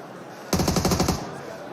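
Burst of automatic gunfire in PUBG Mobile, a rapid string of about ten sharp shots lasting under a second, loud and close, ending abruptly into quiet.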